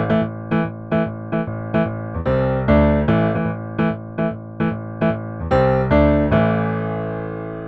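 Keyboard playing the main riff of a song: a bouncy, rhythmic chord groove on one chord with punchy repeated stabs, loud and solo, ending on a ringing chord that fades.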